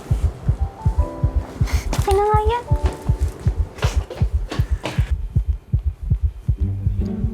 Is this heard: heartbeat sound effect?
yes